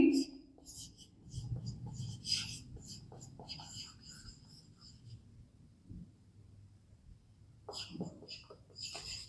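Marker or chalk strokes on a classroom board in a biology lesson, giving short scratchy bursts in several clusters while a teacher speaks over and between them.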